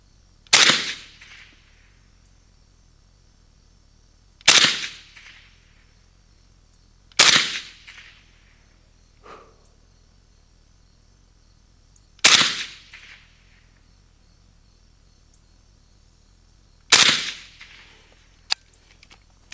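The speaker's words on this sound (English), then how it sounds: "I have a feeling this is going to be super nice to shoot suppressed." Romanian RPK rifle (Century Arms AES10B2) fired suppressed through a Sandman X suppressor: five loud, sharp single shots spaced a few seconds apart, each with a short decaying tail, plus a faint click between shots.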